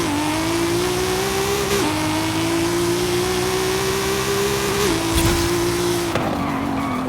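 A tuned Honda S2000 drag car in Forza Horizon 5 revs on high boost, its engine holding a loud, steady drone with pitch shifts through gear changes and a continuous roar throughout.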